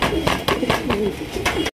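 Several Lahori pigeons coo in soft repeated bursts at close range, with low murmuring coos overlapping through most of the short stretch before it cuts off abruptly.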